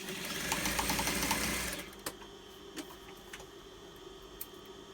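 Sewing machine stitching a cotton face mask, a loud continuous whirring run for about two seconds, then stopping, followed by a few soft ticks and clicks.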